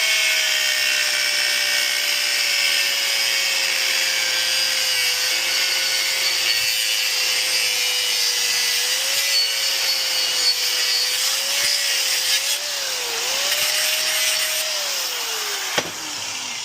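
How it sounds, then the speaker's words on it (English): An angle grinder cuts through steel rollcage tubing with a continuous loud, high whine, its pitch wavering slightly as the load changes, before a quick drop at the end. "And so with the angle grinder, I'll just start right here."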